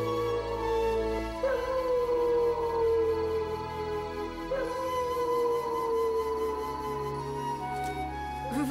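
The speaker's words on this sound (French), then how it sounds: "Tous les loups de la forêt sont prévenus. Et alors, ils obéiront au chant de ralliement." Wolves in a cartoon forest howl a rallying call, long drawn-out howls rising and falling over a steady background score, several voices overlapping, moderately loud.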